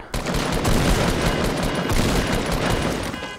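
Rapid, dense bursts of gunfire crackle continuously through a Fortnite battle royale fight, a loud sustained volley of overlapping shots with no talking.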